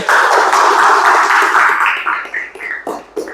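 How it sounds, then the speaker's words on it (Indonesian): A class claps for a student group in a classroom: a burst of brisk applause that quickly thins into a few scattered claps and taps. "terima kasih, tepuk tangan buat kelompok 1 ya"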